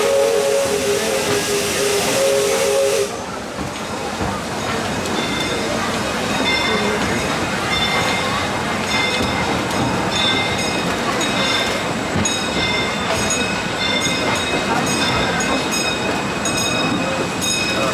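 Disneyland Railroad steam train rolling along with a loud, multi-tone steam whistle blast at the start, then constant chugging, rail clatter and hiss, with a recorded narration voice talking over the ride.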